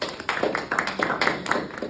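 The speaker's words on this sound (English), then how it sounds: "So a round of applause." Audience applause at a leadership training session, a brief round of clapping from what sounds like a small group, close and fairly crisp, with no talking over it.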